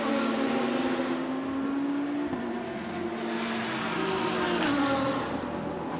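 A race car engine drones steadily with a shifting pitch in the pit lane during the Hankook 12H Hockenheimring endurance race, a continuous mechanical hum heard at a moderate distance with no speech.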